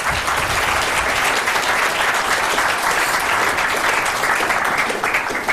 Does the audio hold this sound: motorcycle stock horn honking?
no